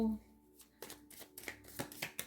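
An oracle card deck being shuffled, with a run of quick riffling bursts close by and no talk.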